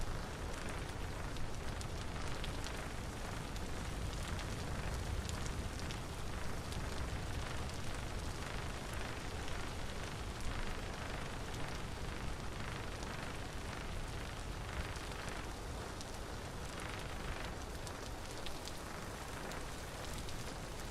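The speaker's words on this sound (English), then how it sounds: "Just won't stop raining." Steady, unbroken rain hisses through a scene in the video game Pennycress, a dense, even wash of patter holding at a constant moderate level for the whole stretch with no talking.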